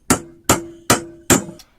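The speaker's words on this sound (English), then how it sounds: "let's see what it's like at banging in nails" Four sharp metallic hammer strikes of a hammer-wrench multi-tool driving in nails ring out at an even pace, each hit followed by a short ringing decay.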